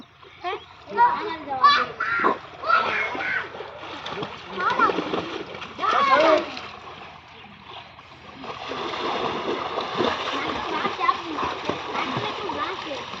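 A child learning to swim splashes in the water, making choppy, irregular splashes close by, while children and adults call out and talk over the splashing throughout.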